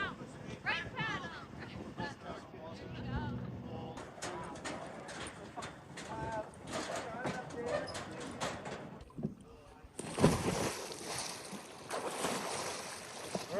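Water splashes and churns as someone in a survival suit paddles on their back in the water, with voices calling out over the uneven sloshing throughout.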